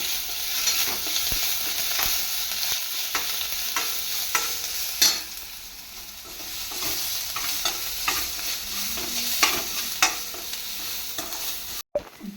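Crushed ginger frying in oil for a Kerala-style clam pickle, with a continuous bright sizzle broken by repeated spoon-stirring scrapes and knocks against the pan, close and with no voices.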